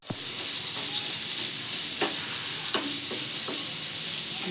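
Onions and chillies are dropped into hot oil, where ginger and garlic are already frying, and they sizzle loudly and continuously, with a few stirring scrapes and clacks over the steady hiss.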